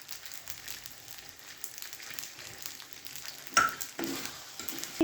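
Pepper dry for a dosa sizzles quietly in a hot pan, a faint steady crackle broken by a few louder scraping stirs near the end, with no one talking.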